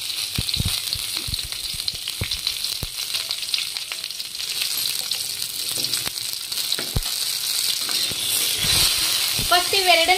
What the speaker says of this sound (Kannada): ಉಳ್ಳಾಗಡ್ಡೆ ಮತ್ತೆ ಟಮಾಟಿ ಇವೆರಡು ಫಸ್ಟ್ ಫ್ರೈ ಮಾಡ್ಕೋಬೇಕು